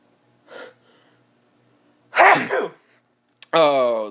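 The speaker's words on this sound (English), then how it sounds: "I'm gonna sneeze." A single human sneeze bursts out after a quick inhaled gasp, close and loud in an otherwise quiet room, followed by a short vocal sound afterward.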